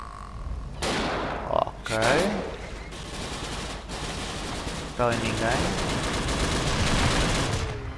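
Gunfire in the video game Dino D-Day, with sharp rapid bursts of automatic shots cracking close and loud in several volleys, separated by brief pauses and overlaid by someone speaking.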